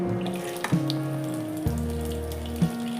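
Taro roots (arbi) are rinsed under running tap water, with a steady close splash and a few distinct clunks as the roots are handled and moved around the sink.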